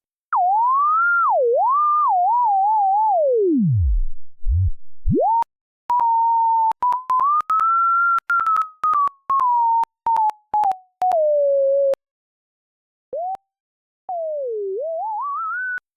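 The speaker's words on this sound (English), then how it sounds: "And back to the sine wave." A pure, smooth synthesized sine tone whistles alone, sliding up and down in pitch, sometimes broken into choppy bursts with brief pauses.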